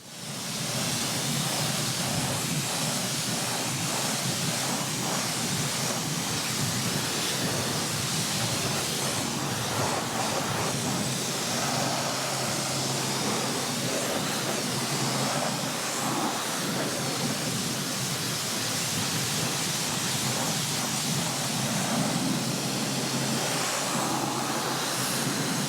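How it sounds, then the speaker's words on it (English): Water sprays steadily across car wheels and tyres during a rinse, a loud continuous hiss that holds unbroken throughout, close by with no talk. "thoroughly rinse everything off."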